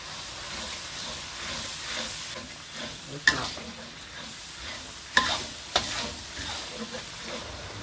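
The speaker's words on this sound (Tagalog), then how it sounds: "And then mix with the tamarind water." Vegetables for urap, an Indonesian salad with spiced grated coconut, being stirred and tossed with tamarind water, a soft wet swishing and clinking that runs steadily with a few sharp knocks against the bowl.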